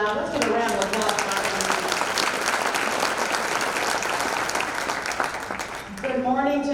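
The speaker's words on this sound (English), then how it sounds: "Let's give a round of applause for" Audience applause at a scholarship breakfast, steady and dense clapping from a crowd for several seconds, with voices in the room heard at the start and end.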